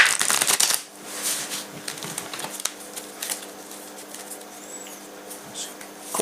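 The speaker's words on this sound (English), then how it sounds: "Let's do a bit of a riffle shuffle on here." A deck of adventure cards for the Elder Sign board game being riffle shuffled: a quick burst of flapping cascade up close, then softer scattered taps and card handling for the rest.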